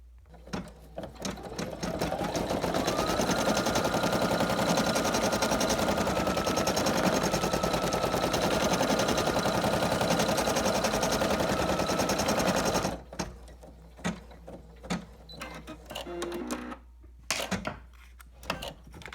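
An embroidery machine stitches an appliqué satin stitch on a felt Halloween ghost, a loud rapid continuous needle chatter that runs for about thirteen seconds, then stops, leaving scattered handling clicks and knocks.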